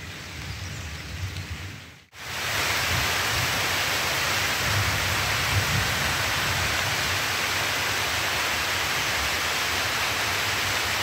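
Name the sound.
rain falling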